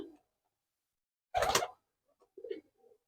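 Murshidabad tumbler pigeons in a loft: a short, sharp burst of noise is followed by a couple of soft, low coos, with near silence between them.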